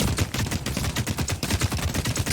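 Rapid gunfire from the video game The Cycle Frontier, a dense run of sharp shots in quick rhythmic succession, loud and close throughout with no talk over it.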